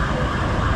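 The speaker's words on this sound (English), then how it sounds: "Hold on, there's a siren coming by." Siren of an emergency vehicle passing on a city street in Rio de Janeiro, Brazil, a loud, close, steady wail over traffic noise in a brief burst.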